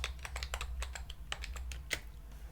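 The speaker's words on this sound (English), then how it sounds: "I'm going to go ahead and type in my password." Light, quick keystrokes patter on a computer keyboard as a password is entered, a quiet irregular run of clicks alone in a hushed room.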